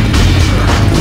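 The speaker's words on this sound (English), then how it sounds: "Loading grenade!" A grenade launcher round bursting on a ship deck in Resident Evil 5: one loud, deep, booming explosion rumbling through the whole second.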